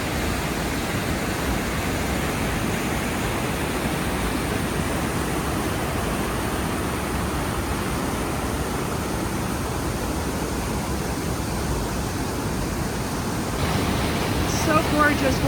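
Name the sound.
Avalanche Creek rushing water, Glacier National Park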